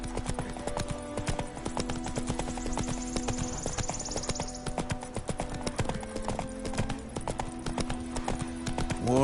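Horse hooves clip-clop steadily at a riding pace in The Witcher 3, a continuous rhythmic trot of hoofbeats close by, layered with game ambience and a brief snort.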